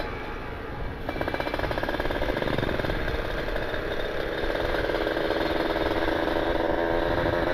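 A motorcycle on a ride through the Cukul Pangalengan area while its brakes are tested, the engine running as a steady, fairly loud mid-range drone with rattling clatter throughout, with no talk over it.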